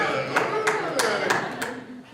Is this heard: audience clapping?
yes